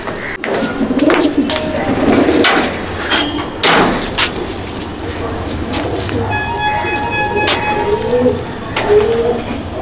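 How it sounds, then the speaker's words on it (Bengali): Andhra pigeons, including a red-headed bird, coo in a loft in Kestopur, their close, throaty calls overlapping with fluttering, a door-like knock and faint background voices. "এটা হচ্ছে লালসিরা আন্ধ্রা পায়রা"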